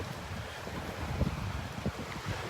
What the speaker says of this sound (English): Wind is pretty steady and pretty constant here